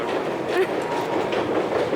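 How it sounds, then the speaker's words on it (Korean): A Tbilisi subway train rumbles along steadily from inside the car, a constant low roar with faint rhythmic clatter of wheels on track and no clear talk. "지하철 타고 오늘은 시내 갑니다"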